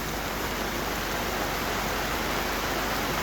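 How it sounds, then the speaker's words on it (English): A rain shower falls at a lake, producing a dense, even hiss of steady rainfall with no breaks or voices. "we're getting another rain shower at the lake"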